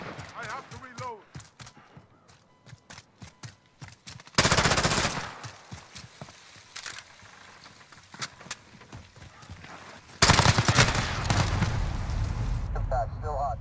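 Bursts of rapid automatic gunfire from a shooting video game, loud and dense, cutting in twice between stretches of quieter game sounds, with someone talking earlier in the clip.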